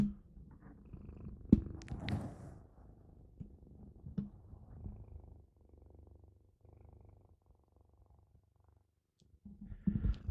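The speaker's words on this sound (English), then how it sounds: "Let's see if we can get these purrs on mic." A contented cat purrs softly and close to the microphone in a low, continuous rumble, interrupted by a few brief handling bumps.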